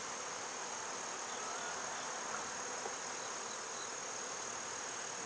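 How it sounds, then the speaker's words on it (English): Honey bees left behind in a hive box buzz in a constant, dense hum of many insects close by, steady throughout with no voices. "they just left a few bees over here"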